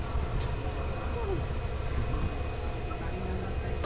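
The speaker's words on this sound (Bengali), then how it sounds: "আমাদের ট্রেন কিন্তু ছাড়বে। এই দেখো ছাড়ছে।" A passenger train pulling out of a station, a steady low rumble and broadband wash filling the whole stretch at moderate loudness, with no clear talk over it.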